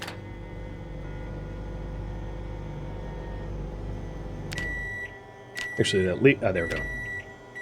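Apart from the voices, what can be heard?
microwave oven running and beeping in Project Zomboid video game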